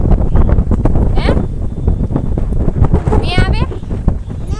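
Wind gusting across open farmland buffets the microphone with a low, steady rumble, heard close and continuous beneath people chatting.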